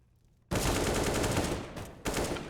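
Rapid bursts of automatic gunfire crack loudly in a Counter-Strike match on the Mirage map, a dense exchange of shots with a brief gap before firing resumes.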